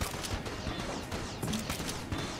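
Rapid, dense gunfire from the Enter the Gungeon video game, a near-continuous barrage of overlapping shots with sharp bursts throughout, loud and without talk.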